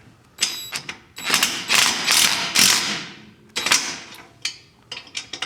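A ratchet or wrench clicks in several loud bursts while a fastener is tightened on a rock buggy build, close up with brief pauses between runs of pawl clicks.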